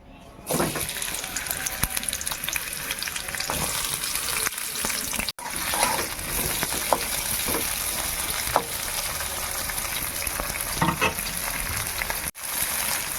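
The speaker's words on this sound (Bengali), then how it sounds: "উচ্ছেগুলো একটুখানি ভেজে নিই।" Bitter gourd pieces frying in a pan give off a dense, continuous hiss, broken by occasional stirring clatter and brief pauses; close and steady, with no talking.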